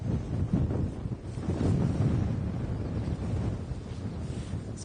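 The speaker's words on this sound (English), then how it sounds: "Quite blowy here today, isn't it?" Gusty wind buffets the microphone in steady, rumbling bursts outdoors at an airfield, loud and continuous with no voices.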